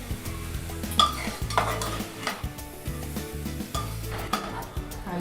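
Chicken for a Sindhi-style red curry being stirred in a pan with coriander powder and garam masala, a close, soft sizzle under repeated scrapes and knocks of a spoon against the pan.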